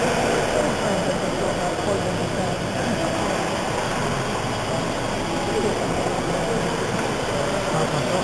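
A Lightflite indoor model airplane's small motor throttles up, a steady broadband whirring hiss that stays loud and even throughout, with a faint voice nearby.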